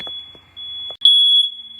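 A fire alarm in a home emits a loud, piercing, continuous high beep. It sounds faintly at first, then comes in at full strength after a short gap.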